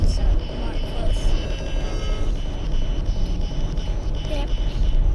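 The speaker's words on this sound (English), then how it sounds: "We're actually on the express train right now." Steady rumbling roar inside an express subway train in motion, dense low-frequency rolling noise with rattling and a faint high whine, continuous and close for the whole stretch.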